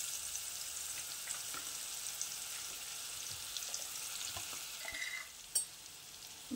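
Cumin and coriander pastes sizzle and spit in a hot frying pan while cooking a spinach dish, a steady close crackle with a few brief stirring clinks and pops near the end.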